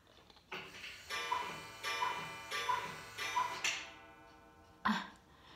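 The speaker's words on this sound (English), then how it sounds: "You guys just heard the cuckoo clock that I got mailed to me a couple weeks ago." A cuckoo clock ticks in a steady rhythm, each tick ringing with a metallic chime-like tone, ending with a sharper click; close and fairly loud, no voices.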